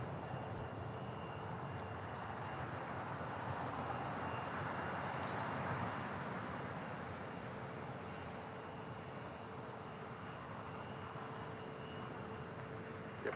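Jet airliner taking off on a runway at LAX, a steady broad engine roar holding at a constant level throughout, fairly distant with no voices over it.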